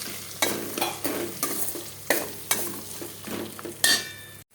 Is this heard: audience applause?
no